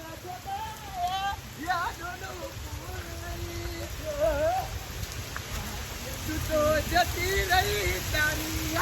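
Heavy rain pours down in a steady, dense hiss throughout, with people talking and calling over it.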